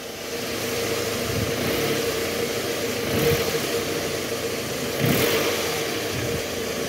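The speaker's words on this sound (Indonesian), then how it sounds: "Mesin sudah hidup." A Toyota Harrier with a 2AZ engine idles steadily nearby with the AC on, a low continuous rumble with two brief swells partway through.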